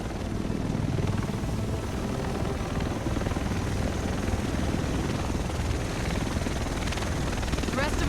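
A helicopter in a third-person shooter game set in Manhattan thumps loudly and continuously, its rotor and engine roar steady and close, with some talk mixed in.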